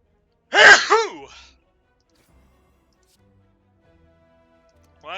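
A single loud, close sneeze bursts out sharply, followed by a short trailing breath and then near silence.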